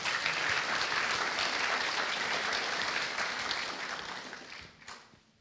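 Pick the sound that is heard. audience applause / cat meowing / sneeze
audience applause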